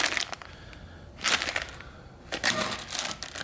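A bag of nuts and bolts gets handled close by, with short rattling metallic clinks in three bursts and quiet gaps between them.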